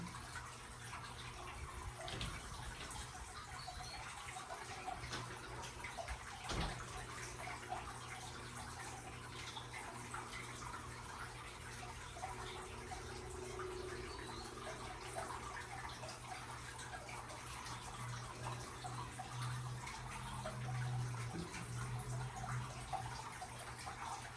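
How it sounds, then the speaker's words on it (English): Water running steadily from a tap into a jug, a constant splashing wash with a low steady hum beneath, close by and continuous with no talking. "I got a jug filling up with water in here"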